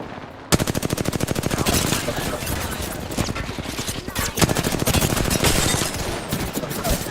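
Sustained automatic gunfire in an online shooter video game, rapid continuous bursts running loud for several seconds with brief gaps and no talk over it.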